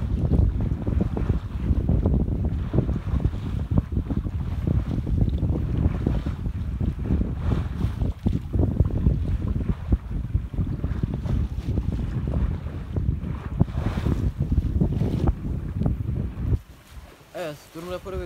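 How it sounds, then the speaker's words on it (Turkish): Loud, blustery wind buffeting the microphone aboard a sailboat under sail off Istanbul, engine off, rumbling low for a long stretch, then easing near the end as a brief voice appears. "Onun dışında rüzgar sesi,"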